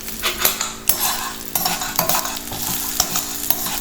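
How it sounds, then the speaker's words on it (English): Ginger, garlic, green chilies and curry leaves sautéing in a pan, a spatula scraping and tapping the metal in uneven strokes over a continuous sizzle, close and with no speech. "Saute it a little, keep sauteing till it softens a little."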